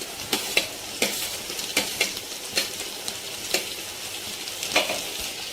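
Onions and tomatoes sautéing in a pan for chicken dum biryani, a steady oily sizzle broken by sharp, regular spoon scrapes and stirring clinks against the pan, close and alone with no talk.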